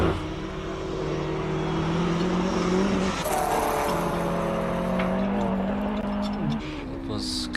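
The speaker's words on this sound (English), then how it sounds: "And a front wheel drive car." A front-wheel-drive race car at the Simola Hillclimb hums through a steady engine drone that rises and dips with gear changes, heard at a distance beneath a commentator's voice.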